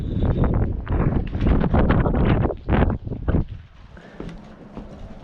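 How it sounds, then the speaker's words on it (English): Strong wind roars and buffets the microphone in a steady, rough rush at an Arizona ghost town, at first under a voice and then alone. "Super windy."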